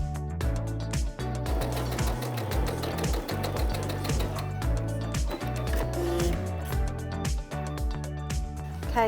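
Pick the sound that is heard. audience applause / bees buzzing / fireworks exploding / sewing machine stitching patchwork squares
sewing machine stitching patchwork squares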